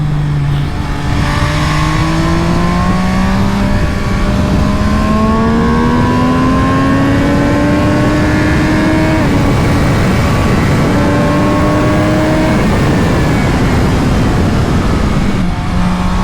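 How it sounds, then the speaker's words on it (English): A loud MV Agusta Brutale Dragster 800 RR motorcycle engine revs and climbs steadily in pitch, dropping back and rising again through several gear changes, close and continuous with heavy wind rush. "The sound of this motorcycle, oh, it's to die for."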